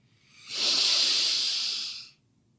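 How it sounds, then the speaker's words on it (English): One long, deep in-breath during a guided meditation, drawn as an airy hiss that swells, holds steady for about a second and a half, then stops abruptly, close and quiet, with no talking. "Breathe in again."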